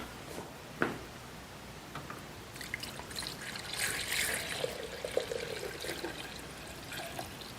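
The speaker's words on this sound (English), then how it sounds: "Now we'll pour in the ingredients." Soft trickling and splashing of lemon sorbet ingredients being poured into an ice cream machine, quiet and steady, with a few small clicks and no voices.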